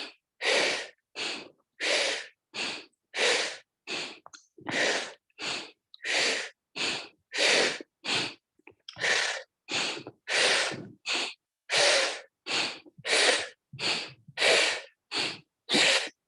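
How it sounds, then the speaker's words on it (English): Deep belly breathing in a Kundalini exercise: a steady series of about two dozen loud, close breaths, each a sharp, forceful puff through the nose, evenly paced with brief gaps and no talk. "So belly expands as you inhale. And then pull the belly in as you exhale."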